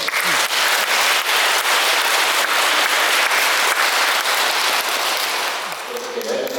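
A church audience at a Lenten lecture breaks into sustained applause, a dense crackle of many hands clapping at a steady level before it thins out near the end, when a voice begins to speak.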